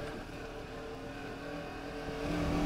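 Motorcycle engine held in first gear on an ATV trail by a culvert, a steady close mechanical drone with harmonic whine that swells louder toward the end as the rider pushes on.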